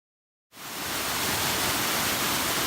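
Moore Creek, a stream off Winding Stair Gap in North Carolina's Nantahala National Forest, rushes in a steady broadband wash of flowing water, starting after a half-second of silence and holding loud and even.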